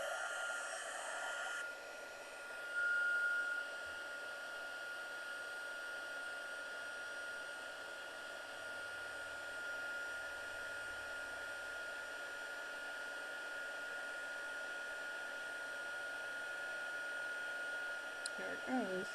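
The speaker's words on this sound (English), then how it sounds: "then we're going to bring out our heat gun. It's going to be a little noisy" A heat gun blows hot air steadily for card embossing with a stamping bundle, a continuous close whirring roar that holds for nearly the whole stretch before cutting off near the end.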